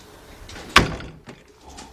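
A BMW X5 car door is closed during a test after outside door handle reinforcement replacement, a single sharp close slam with a faint later rattle.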